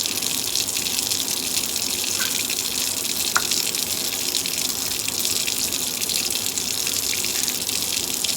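Tap water runs steadily over a makeup sponge at a sink, a continuous close splashing hiss with a few brief small splatters, no voices.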